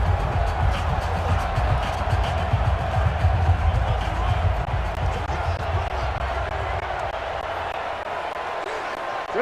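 Stadium crowd noise from a Madden NFL 20 video game broadcast of a Tampa Bay Buccaneers vs New Orleans Saints match, a steady roaring murmur of fans with swelling cheers, heard continuously and fairly loud under the game's ambient sounds.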